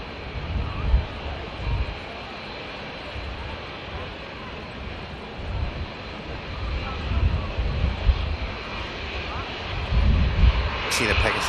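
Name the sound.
EasyJet A320neo jet aircraft at Manchester Airport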